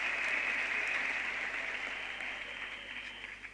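Applause from the audience at a university graduation ceremony in Limpopo, a steady, fairly faint wash of clapping that holds evenly and slowly tapers toward the end, with no voices over it.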